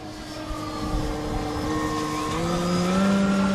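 Large electric RC airplane, a Pober Pixie with a 118-inch wingspan, flying with a steady motor-and-propeller drone whose pitch rises and shifts near the end, heard continuously at moderate distance with no talk.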